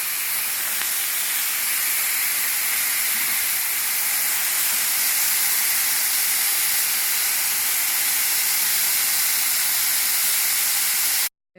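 Food sizzling while cooking, likely pork belly, producing a loud, continuous, dense hiss that holds steady throughout and cuts off abruptly at the end, with no voices.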